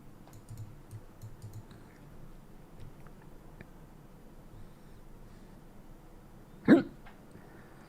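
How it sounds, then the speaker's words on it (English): A single short hiccup rings out sharply near the end over quiet background hiss. "A hiccup."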